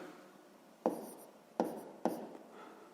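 A pen writes numbers on paper while working a sixth-grade maths exercise: quiet, close scratching strokes broken by three sharp taps as the pen meets the page.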